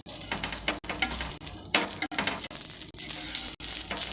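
Dosa batter made from old, leftover batter sizzling on a hot dosa griddle stone: a steady frying hiss throughout, broken by sharp, regular clicks and scrapes of a spatula against the griddle.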